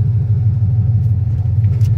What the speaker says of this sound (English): Y'all see the car running?